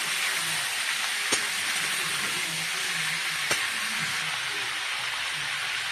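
A turmeric-spiced mixture sizzles steadily in a pan while being stirred, a constant bright frying hiss with two sharp utensil knocks against the pan.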